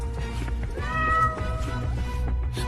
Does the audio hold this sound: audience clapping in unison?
no